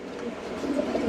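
Low, soft cooing from a pair of white-faced pigeons in a loft, faint over a steady background hum, swelling slightly toward the end.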